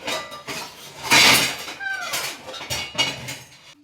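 Pots, pans and steel utensils being washed at a home kitchen sink, with repeated clinks and clatters of metal against metal, one louder crash of dishes near the middle, close and fairly loud throughout.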